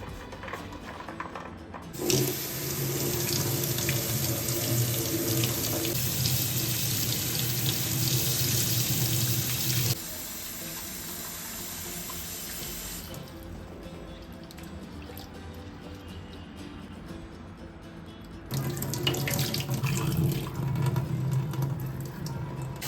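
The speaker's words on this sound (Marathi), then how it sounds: "भाज्या छान स्वच्छ धुवून घ्यायच्या आहेत" Vegetables for a Bhogi mixed-vegetable dish are rinsed under a strongly running kitchen tap, a loud continuous gush of water that drops in level midway and then surges again, with no talk.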